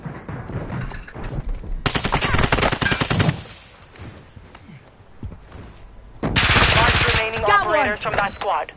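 Enemy gunfire in Modern Warfare erupts in two loud, rapid automatic bursts of dense shots, separated by a quieter lull, with game voice callouts mixed in.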